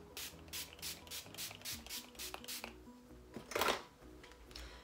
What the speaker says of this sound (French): je vais mettre mon spray nourrissant. Donc c'est celui de chez Révolution Beauty